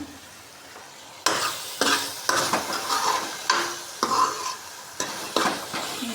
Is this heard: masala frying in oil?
yes